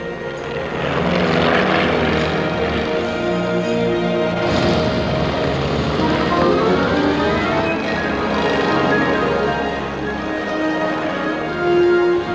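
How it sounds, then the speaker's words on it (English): A small private airplane's engine drones loud and steady throughout, a continuous propeller roar with shifting tones and no pauses. "The engine's making a lot of noise."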